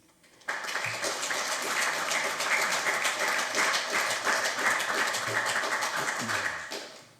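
Steady round of applause from attendees at a district development management council committee meeting, a dense crackle of many clapping hands rising suddenly and holding evenly for several seconds before fading out.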